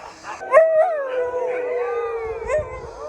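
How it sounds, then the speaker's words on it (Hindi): Several huskies howl together outdoors in snow, long wavering howls that overlap and rise and fall in pitch, with a few short yips, close and clear. "ये हाउल इसलिए कर रहे थे क्योंकि इनके जो फेलो डॉग्स थे वो हस्की राइड में चले गए"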